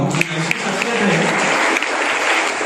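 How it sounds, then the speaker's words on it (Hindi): Enthusiastic audience applause at an award event for Urdu-medium school toppers, loud, sustained clapping from a crowd close by, steady throughout with occasional sharper claps. "उनके लिए जोरदार तालियां हो"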